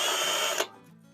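A power drill runs at a high, steady whine while driving a bolt during trailer hub and tire installation, then cuts off abruptly, leaving a quiet tail.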